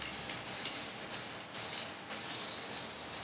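Short bursts from a spray can or gun hiss in a regular rhythm, a light coat of paint going onto car exhaust headers close by, with no talking.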